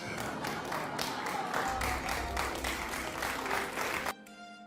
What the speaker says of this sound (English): Audience claps as Bill Maher walks back on stage